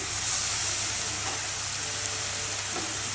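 Garlic dropped into hot oil for a Bengali pomfret fish korma, a loud, steady broadband sizzle and hiss that holds evenly throughout with no talking.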